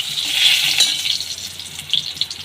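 Bay leaves crackle and sizzle in hot mustard oil being tempered for an egg curry, a bright steady hiss with small pops and occasional stirring clinks.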